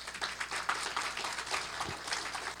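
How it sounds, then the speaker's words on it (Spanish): Steady congregation applause at a church service, with dense clapping throughout, fairly loud and sustained, without speech over it. "Denle un fuerte aplauso a nuestro Dios."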